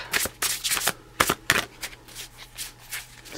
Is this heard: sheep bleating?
no